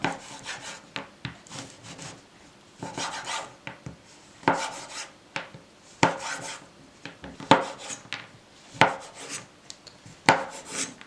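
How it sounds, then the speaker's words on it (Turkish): Milk chocolate bar snapped and broken into small pieces by hand for cookies, a series of sharp crisp cracks and rustling wrapper scrapes in irregular bursts, close and clear with no speech. "Çikolatalarımı çok küçük olmasa da küçük parçalara ayıracağım."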